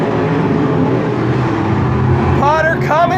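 Race cars roar around the banked oval at Sunset Speedway in Oregon, a dense continuous engine drone from several cars, loud and close, with a commentator talking over it and a sharp squeal near the end.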